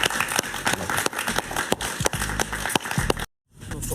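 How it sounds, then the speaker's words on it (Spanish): Studio audience applause on a Spanish-language talk show, dense overlapping claps with a rapid uneven rhythm, loud and close, cutting off abruptly near the end into a brief silence. "Un aplauso para él, por favor."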